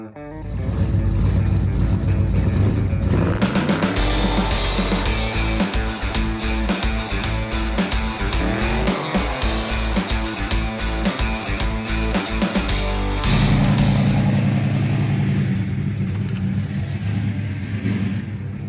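A 1969 Oldsmobile 442 engine revs hard on a test drive, a loud, deep rumbling roar that surges and climbs through gears, easing back briefly before swelling again, close and dominant throughout.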